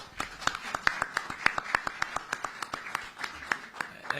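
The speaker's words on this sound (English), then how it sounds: "Let's clap hands for Arsene Wenger, please." A small audience at a football league trophy unveiling claps hands in sparse, separate claps that form a loose, roughly steady rhythm, with no voices over them.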